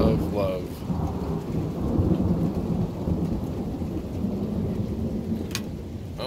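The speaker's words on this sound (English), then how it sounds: "Oh my God, the thunder sounds so great, doesn't it?" Steady rain hisses throughout while low thunder rumbles continuously beneath it, fairly loud and close, with no voices.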